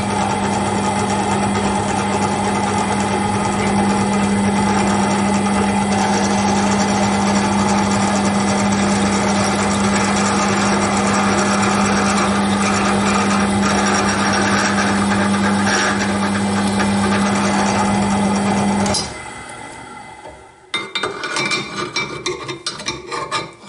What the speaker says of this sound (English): I will deburr it and make it ready to drill some holes.